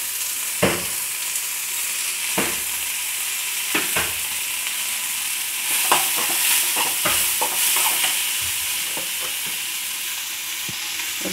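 Tomato and garlic fry in a hot pan with a constant bright sizzle, spatula strokes scraping and tapping at irregular intervals, close and alone.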